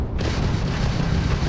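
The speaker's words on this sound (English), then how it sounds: "That's the ballistic cannon." A ballistic cannon fires in the Starfield video game, a sustained, heavy booming blast that starts abruptly and rumbles loudly for over a second with no talk.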